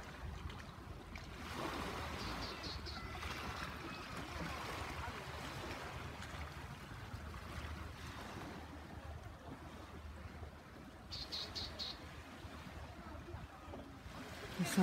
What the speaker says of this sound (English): The sound of the waves, I don't know whether you can hear it.